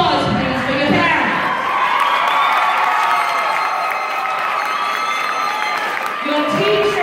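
A loud crowd at a high school graduation applauds and cheers for the graduates' parents, with whoops and shouts rising over sustained clapping for several seconds before it tapers.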